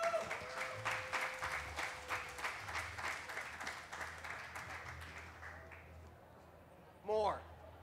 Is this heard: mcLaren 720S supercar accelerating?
no